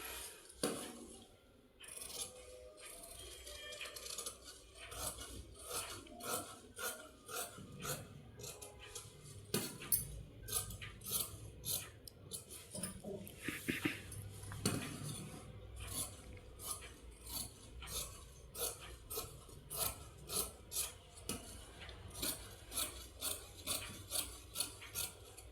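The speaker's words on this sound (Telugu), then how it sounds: "ఇప్పుడు కటింగ్." Scissors cutting blouse fabric, a long run of repeated rasping snips and rubbing strokes at a steady rhythm, close and clear with no talk.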